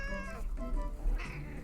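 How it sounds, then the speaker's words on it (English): A house cat meows several times close by, a series of short, fairly quiet calls. "And my cat is back."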